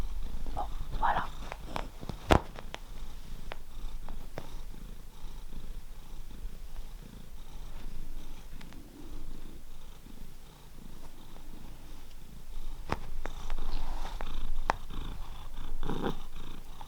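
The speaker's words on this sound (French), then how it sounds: "il ronronne comme vous voyez" A domestic cat purring close by, a soft continuous rumble through the stretch, broken by a few sharp clicks and rustles and a faint murmur now and then.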